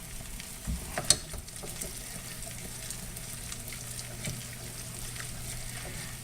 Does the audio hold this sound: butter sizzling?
yes